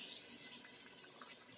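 Water poured into a pressure-cooker pot of meat and tomatoes, a soft continuous splashing trickle heard close and steady for a moment with no talking.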